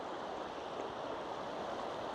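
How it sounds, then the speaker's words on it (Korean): Continuous gentle rushing of river water running past a campsite, even and unbroken, heard alone without any talking. "그럼 물소리가 적당히 들리고"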